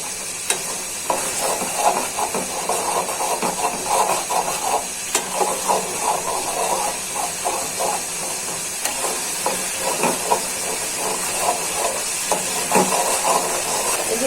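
Dried chapa shutki fish frying in a pan, a steady soft sizzle and hiss with faint scraping stirs and light clicks running throughout, close by and without speech.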